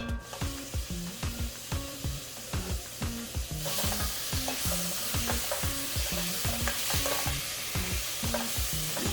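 Spring onion being stir-fried in a pan with a tablespoon of oil over medium heat, a utensil scraping in quick regular strokes while a steady sizzle grows louder partway through; no one speaks.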